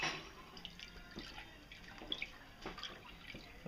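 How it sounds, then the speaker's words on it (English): Homebrew being stirred hard after yeast is pitched: wet sloshing and splashing with scattered drips and bursts, fairly quiet and uneven over a few seconds, with no voices. "And then we mix vigorously for 30 seconds."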